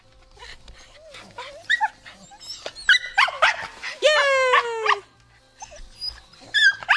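Puppies bark, yip and whimper on a farm before a walk, a series of close, sharp high-pitched barks and a drawn-out whining cry, with a person talking around them.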